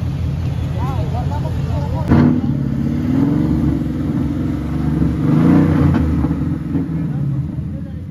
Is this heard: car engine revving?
yes